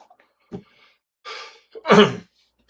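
A quick intake of breath builds into a single loud, close sneeze, preceded by a small click and a short breathy sound.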